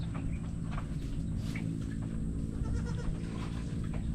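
Pet goats bleat at a farm, with several short calls scattered over a steady background hum and no talking.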